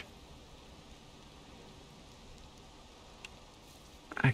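Rain falls in the video game Valheim as a soft, steady hiss with no voices, ending in a brief louder knock.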